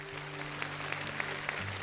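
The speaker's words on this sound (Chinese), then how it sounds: "也再次把掌声送给陈坤宇" A studio audience claps steadily at a televised Chinese science competition show finale, dense continuous applause with a few sharper accents, moderately loud and without speech over it.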